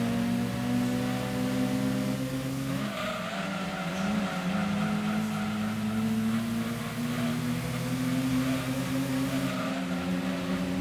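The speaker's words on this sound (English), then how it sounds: "Do I hear turbos behind me?" Turbocharged race cars in a racing video game, with steady engine drones and whining tones shifting pitch, tires squealing and skidding, sustained and fairly loud without speech.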